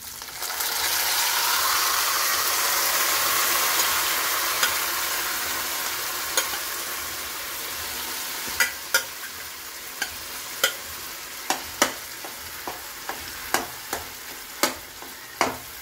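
Green chillies stir-fried with a foxtail millet dish in a pan: a steady sizzle that gradually fades, then sharp, regular clicks and scrapes of a spatula against the pan, close and alone without talk.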